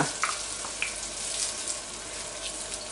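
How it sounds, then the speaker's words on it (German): Bacon frying in melted butter in a pan, a steady hissing sizzle with a few light pops, close and alone without talk. "Wenn die Butter zerschmolzen ist, gebe ich meinen Speck dazu."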